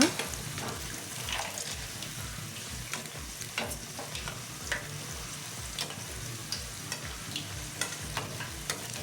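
Vegetable fritters frying in oil in a pan, a steady crackling sizzle broken by regular scraping stirs and spatula taps, close and moderately loud with no talking.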